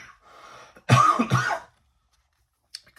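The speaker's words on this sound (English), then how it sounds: "Excuse that cough." A single person gives a short throat-clearing cough, two quick close bursts in a quiet room, then a faint trailing sound.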